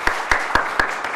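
Four evenly spaced, crisp claps with a small tail, heard at a student festival gathering as the audience applauds the workshop leaders.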